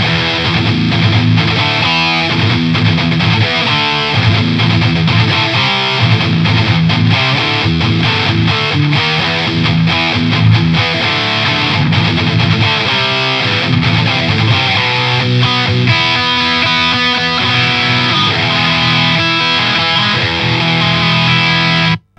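Heavily distorted electric guitar playing continuously with dense, saturated chords and riffs, loud and sustained throughout.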